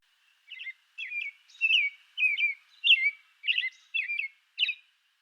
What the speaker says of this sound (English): So let's talk about the different sounds that robins make.